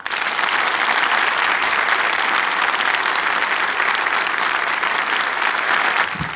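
A concert hall audience breaks into loud, dense, sustained applause that stays steady throughout, with no voices above it.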